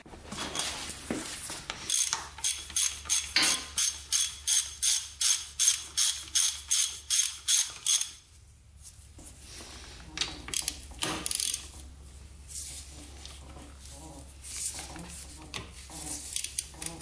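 A ratchet cranks a broken quad's engine over toward top dead center, giving a close, loud run of evenly spaced clicks that stops midway, followed by softer scattered mechanical clatter.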